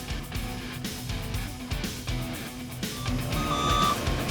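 Truck backing up at a sugar beet piler during harvest, its reversing alarm beeping over heavy, rumbling machinery noise that swells toward the end, with no voices.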